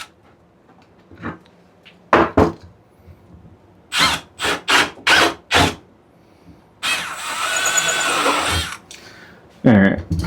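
A cordless drill with its clutch set to drill bores into wood for a key hanger, several short whirring bursts in a row followed by a longer sustained run, close and loud, with no talking.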